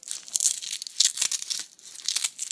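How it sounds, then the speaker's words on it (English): Packaging tears and crinkles in quick, irregular bursts as a Chromecast USB cable is unwrapped, close and fairly quiet with no talking. "I'm trying to unwrap it."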